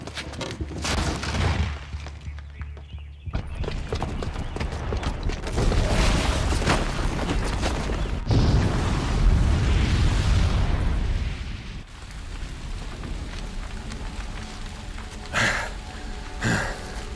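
A booby-trapped bomb goes off inside a building in Horizon Zero Dawn, a heavy roaring blast with rumbling debris and creaking collapse that sustains loudly for several seconds before trailing into lighter rattles and clinks.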